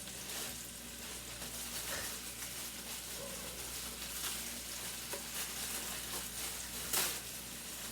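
Food sizzles and fries steadily in a frying pan, a dense continuous hiss with a few sharper crackles, close and fairly loud with no talking.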